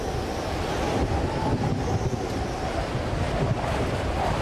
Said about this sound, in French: Des vents soufflant jusqu'à 250 km/h s'abattent sur le littoral.